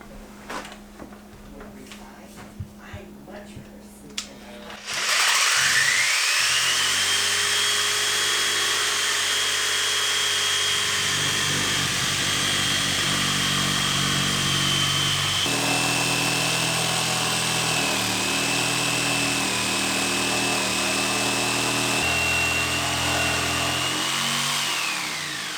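A power saw starts abruptly and cuts a sink hole in a countertop steadily with a loud, high whine, its pitch dipping slightly partway through, running continuously to the end.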